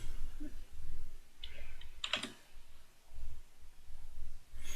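A few sparse keystrokes on a computer keyboard while entering an AutoCAD 3D command, including a brief cluster of clicks mid-way, faint and close against a quiet room hum.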